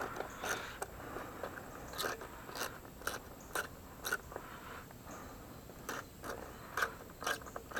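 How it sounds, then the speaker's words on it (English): A worn Craftsman ratchet wrench clicks in quick irregular bursts while working on a Briggs mower carburetor, the sharp close ticks standing out over a low background with no talk. "My ratchet is starting to stick."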